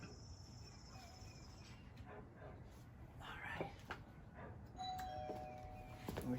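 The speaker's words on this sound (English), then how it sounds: "we're going to ring the doorbell." A doorbell chimes at a house entrance with a few faint tones, while a dog barks nearby and insects chirp outdoors. A person speaks softly in the background.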